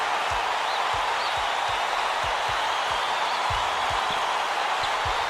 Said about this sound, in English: Can you believe this crowd? Just listen to these people.